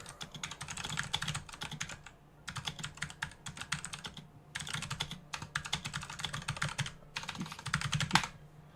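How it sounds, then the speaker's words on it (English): Rapid keyboard typing in several bursts separated by short pauses, close and clicky, with no voices. "Typing away."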